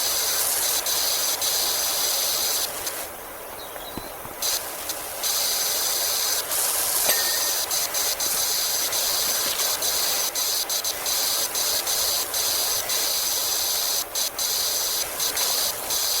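A pressure washer sprays in the Powerwash Simulator video game, a steady loud hiss that runs on and on and cuts out briefly several times, with no talk.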